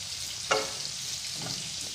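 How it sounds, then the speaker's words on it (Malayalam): Chopped bitter gourd frying in a pan, giving a soft, steady sizzle with a brief sharper scrape or clatter early on and a faint stir later. "ഇനി ഇതിലേക്ക് നമ്മൾ നേരത്തെ കട്ട് ചെയ്ത് വെച്ച പാവയ്ക്ക അരിഞ്ഞത് ചേർത്ത് കൊടുക്കാം."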